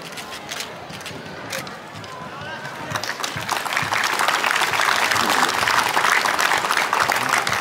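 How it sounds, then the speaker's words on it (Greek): A crowd applauds at a wreath-laying ceremony at a heroes' monument in Naxos on 28 October, dense sustained clapping that swells and grows louder and fuller over several seconds, heard outdoors without talk. "Παιδιά, μόνο χειροκροτάμε αλλά δεν μιλάμε."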